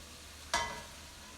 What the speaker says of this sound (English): frying the filling for the tamales